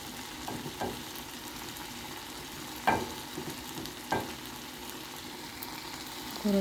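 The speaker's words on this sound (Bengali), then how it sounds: "তেলটা হয়ে আসলে এখন ধীরে ধীরে আমি করলা দিয়ে দিচ্ছি।" Pieces of bitter gourd (karela) frying in hot oil for a karela bhaji, a steady soft sizzle with a few sharp crackles and spoon clinks, quiet and close.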